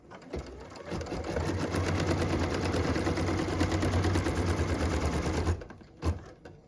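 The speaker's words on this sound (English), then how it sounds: "What we're stitching now is the tack down line for piece number 4." An embroidery machine stitches a tack-down line on a pieced fabric block held in a hoop, a rapid, steady close-up whirring patter for about five seconds that stops abruptly, followed by a couple of faint clicks.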